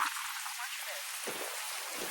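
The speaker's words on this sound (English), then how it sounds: "Look how much rain, bro. Look at the rain." Steady broadband rain hiss on a drizzly March afternoon outdoors on a campus hill, continuous and close, with brief low thumps and a faint voice in the background.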